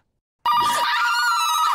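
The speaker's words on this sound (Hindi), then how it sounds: "अरे दरवाजे की घंटी नहीं है, फोन की घंटी बजी है।" A telephone bell rings in a home, a steady electronic trill that starts abruptly after a short silence and keeps ringing loud and close without pause.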